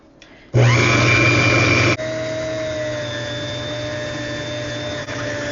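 A loud electric mixer whipping batter whirs steadily, with a sharp start and a slight drop in pitch as it settles into a continuous high whine.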